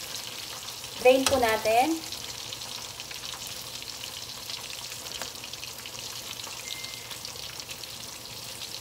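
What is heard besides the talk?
chicken wings double frying in oil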